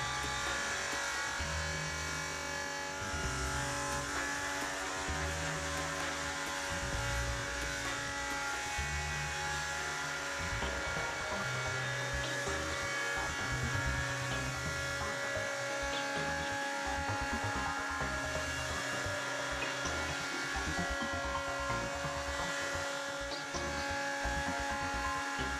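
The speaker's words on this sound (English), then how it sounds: "set the cutting depth of the second stage and repeat the milling procedure into the opposite direction" A BDS AutoCUT 500 weld bevelling machine mills a steel edge with a loud, steady electric whine and grinding drone that holds for the whole stretch, shifting slightly in pitch as the cut proceeds.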